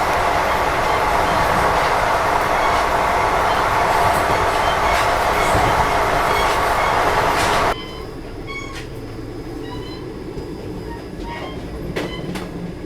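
Geeta Jayanti Express train pulling out of a station, a loud continuous rumble and clatter of wheels on track that drops abruptly to a quieter rolling background with scattered clanks.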